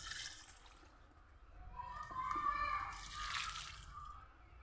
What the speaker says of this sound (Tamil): அதுக்கும் இந்த தண்ணியை ஊற்றுவோம்.